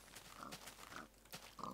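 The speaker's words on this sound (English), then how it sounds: "So, here we have the pig pen." Minecraft pigs grunt in a pig pen, several short, nasal oinks spaced apart at moderate distance with nobody talking.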